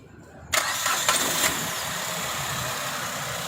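A Suzuki car fitted with a hydrogen kit cranks briefly and fires up, then settles into a steady, fairly loud idle close by.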